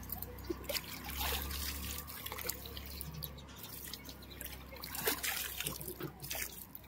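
Water trickles and drips steadily in the hot water pools at a temple, a soft continuous dribble with scattered drops, fairly quiet and without voices.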